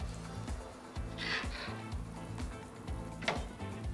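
Picanha kebab skewers over an open fire give a faint sizzle with soft crackles and a few brief flares of hissing, while a low rhythmic thumping goes on underneath.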